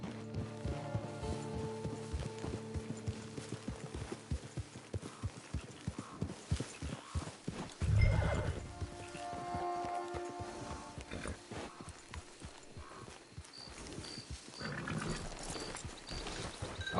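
Horse hooves clip-clopping at a steady walking rhythm in the video game Red Dead Redemption 2, each footfall crisp and close, with a brief heavier thump partway through and faint ambient game sound underneath.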